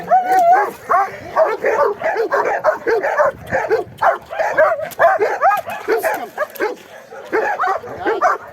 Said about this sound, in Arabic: لان الكلب كان بيهوهو